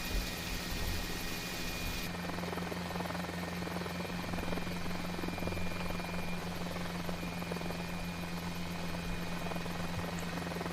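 Helicopter in a cockpit simulator game, heard as a steady, loud rotor and engine drone with a constant low hum that holds throughout, with no talk over it.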